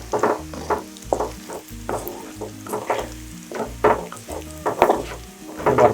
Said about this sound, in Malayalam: ഇത് ഫ്രൈ ആയിട്ടുണ്ട്, നമുക്ക് എടുക്കാം.